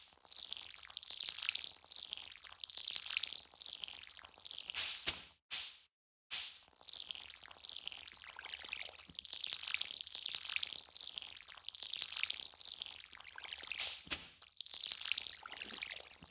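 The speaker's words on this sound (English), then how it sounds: "Let me water these." Repeated watering-can pours on crops in the farming video game Stardew Valley, a steady run of sloshing, splashing bursts that rise and fade in a rhythm, each lasting about a second, with one brief silent gap near the middle.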